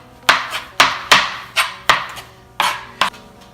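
A knife chops parsley into fine pieces with seven crisp, close thuds on a board, spaced unevenly.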